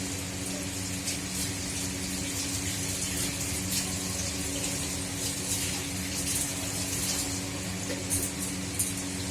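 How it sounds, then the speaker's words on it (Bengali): A plate washed under a steadily running tap, water streaming continuously with faint clinks of dishware near the end, a steady hum beneath throughout. "এইভাবে এই যে প্লেটটা ধুয়ে নিলাম"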